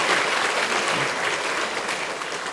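A church congregation at a Sunday service applauds in welcome, steady dense clapping filling the room at an even level from start to finish.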